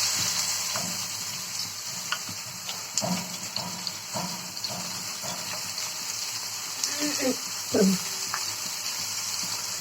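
Pieces of fish fry in a hot pan with a steady, close sizzle and hiss, broken by occasional clinks and scrapes of a utensil.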